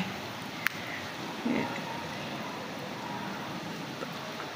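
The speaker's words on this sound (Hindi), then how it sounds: "बाहर बहुत तेज़ बारिश हो रही है" Heavy rain falls outside as a steady, soft broadband hiss, heard indoors at low level with a brief click and a faint thump over the constant wash.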